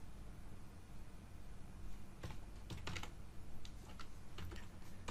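Computer keyboard typing in short irregular bursts of clicks and key taps over a steady low background hum, fairly quiet and close, with no talking.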